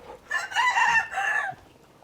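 A human voice imitates a rooster's cock-a-doodle-doo crow in a garden setting. One loud, close call rises and falls in two connected parts over about a second and a half, then stops.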